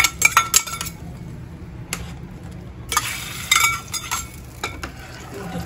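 Sautéed onions being tipped from a metal pan into a pot of sundakkai sambar, with close scraping and clattering of utensils against metal in a few bursts and a faint sizzle between them.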